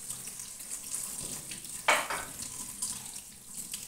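Tap water runs at a kitchen sink while fish is rinsed, a soft steady wash with a brief louder splash midway, heard close up and without speech.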